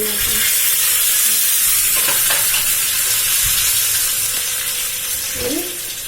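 Curry leaves sizzling in a hot pan on a home stove for paruppu adai avial, a loud continuous hiss with a few stirring scrapes and no talking.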